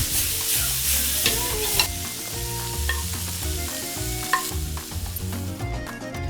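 Flat Italian parsley, garlic and salt toss in olive oil in a hot pan, a loud close sizzle with repeated scraping and clattering stirs, while low tonal background sound runs underneath.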